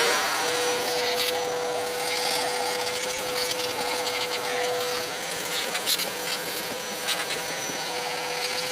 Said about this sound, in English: Get the vacuum cleaner in there and see if we can get some of that out as well.